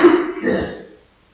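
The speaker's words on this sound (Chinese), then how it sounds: "刚才跳了个绳，然后呢，有点咳痰啊" A man coughs up phlegm after skipping rope, one short, close, throaty hack that fades out quickly.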